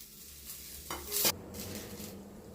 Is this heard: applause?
no